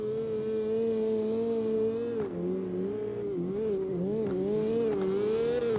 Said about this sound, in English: Oh, Nose rocking it out in a Miata right here.